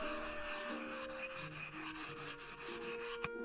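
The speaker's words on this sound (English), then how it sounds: "I'm going to use my flattening stone to create a little bit of extra grit here" A flattening stone rubs across a whetstone in short back-and-forth strokes, a close, quiet gritty rasp repeating steadily, ending with a small knock; no one speaks.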